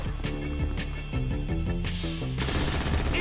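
Video game gunfire pops in quick repeated shots over a thick bed of in-game sound, loud and close, with a brief sweeping whine toward the end.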